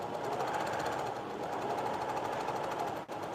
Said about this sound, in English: See how fast I can sew?